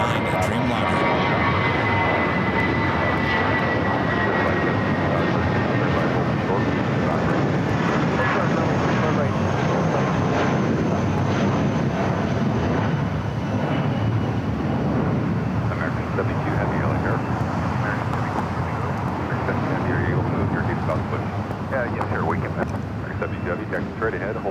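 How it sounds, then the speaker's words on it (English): LATAM Boeing 787-9 Dreamliner arriving at LAX, a loud, continuous engine roar with wind buffeting the microphone throughout and radio talk mixed in. "This LATAM flight 8087, heading to Sao Paulo on the 787-9 Dreamliner."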